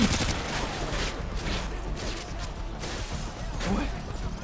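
Rapid gunfire in the video game Call of Duty Modern Warfare 2 crackles in dense bursts, with heavier blasts near the start and end, amid ongoing game noise.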